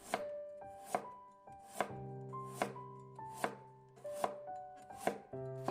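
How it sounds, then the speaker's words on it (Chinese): Half a carrot being sliced into thin slices with a knife on a cutting board, giving a close, regular series of crisp chopping knocks about one per second. "先切成薄片"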